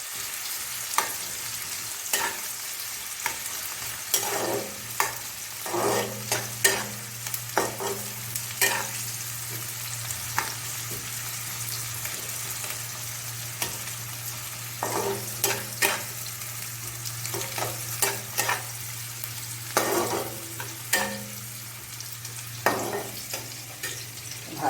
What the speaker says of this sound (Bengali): পেঁয়াজটা ভালো করে ভাজা ভাজা করে নিতে হবে।